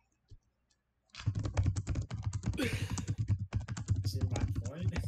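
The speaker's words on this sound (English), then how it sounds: "there's always the loud clacking of Alex" A computer keyboard clacks loudly under fast, continuous typing, a dense close run of key strikes that starts after a second of near silence and never pauses, with a faint voice murmuring underneath.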